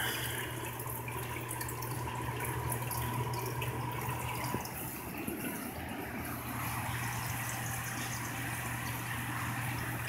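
A tiny air filter runs in the dirty water of a paludarium, giving a continuous close bubbling and watery rush that stays steady throughout, with no talking.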